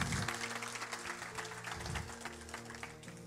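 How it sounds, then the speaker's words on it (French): A church congregation applauds for Jesus Christ, a dense wash of clapping from many hands that carries steadily through, with some music or voices faintly underneath. "Est-ce qu'on peut applaudir vraiment le Seigneur Jésus-Christ?"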